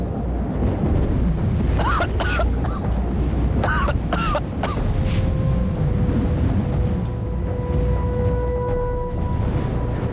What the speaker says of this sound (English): Yeah, the wind's really starting to kick up.